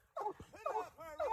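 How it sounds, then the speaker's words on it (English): A six-month-old Walker hound, a young coonhound, gives short, high yips and whimpering barks in three close bursts with brief gaps between them. "Brother Scotty's young dog."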